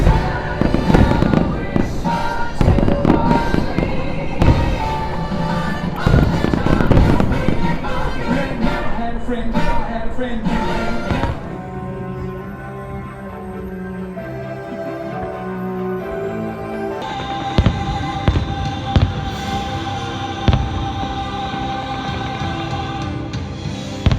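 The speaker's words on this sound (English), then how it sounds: "a monorail crawl ending with a beautiful display of fireworks on top of the Contemporary" Fireworks burst above Disney's Contemporary Resort at Walt Disney World, a loud, dense barrage of booms and crackles that thins briefly in the middle and builds again, with faint crowd noise beneath.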